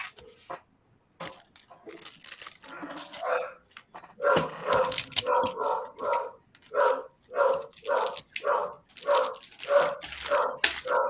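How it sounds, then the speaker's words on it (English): A dog barks repeatedly in a steady rhythm, moderately close, after a few scattered sounds at the start. "Sorry for the dog barking."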